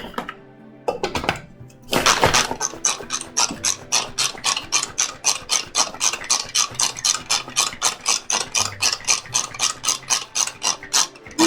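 A mini food processor blends cookie dough in a rapid string of short, even pulses, close and loud, running steadily after a brief start-up.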